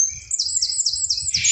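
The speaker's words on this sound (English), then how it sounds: "Shut up, bird!" A pet bird chirps close and loud in a rapid series of high, rising tweets, a quick repeated trill, while low rumbling noise runs beneath.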